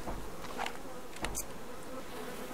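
A swarm of bees drones around a tree in the survival video game Subsistence, a steady, moderately quiet buzzing with a couple of brief sharper swells.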